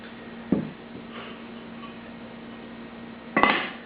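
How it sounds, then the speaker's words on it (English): A lid goes onto a pan holding no-knead sourdough bread dough, making two distinct clanks a few seconds apart over a quiet kitchen hum. "the lid goes on"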